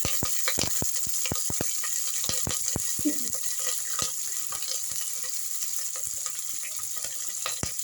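Chilies, mustard seeds, fenugreek and cloves sizzle in hot oil for a kadhi tempering, a steady hiss broken by a quick run of sharp pops and spits early on, then irregular crackles.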